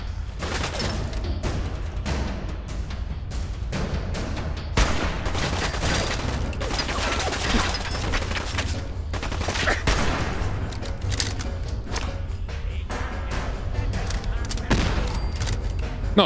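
Fallout 4 combat against super mutants, with dense, continuous rattling gunfire and heavy booms, including a grenade blast, all loud and close throughout without a pause.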